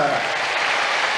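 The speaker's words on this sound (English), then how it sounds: "Oh, give the bunnies a great big cheer!" Cheering and applause from an audience for children hopping as bunnies on a children's TV show, a steady wash of clapping filling the whole moment.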